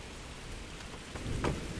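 Steady rain falls in a horror video game set at a haunted asylum, a soft constant wash of noise that stays faint throughout with no speech.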